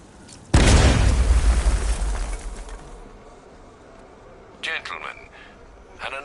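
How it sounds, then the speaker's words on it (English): Explosive charge blasts through a wall in Batman: Arkham Knight: one loud, close boom with a long rumbling decay over several seconds, followed later by faint debris clatter and brief high-pitched game effects. "apply the explosive directly to destroy that wall"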